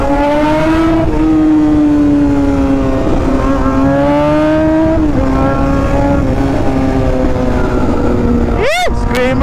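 Yamaha R1M superbike engine revving hard and loud up close, a sustained high-pitched scream rising and falling, ending in a sharp throttle blip near the end.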